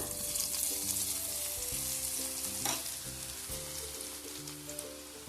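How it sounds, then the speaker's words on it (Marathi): Steady sizzling of boondi batter for motichoor laddoos dropping through a perforated ladle into hot oil in a wide kadai, a continuous crackling hiss with soft tapping sounds over it. "बुंदी आपली छान तेलामध्ये पडलेली आहे"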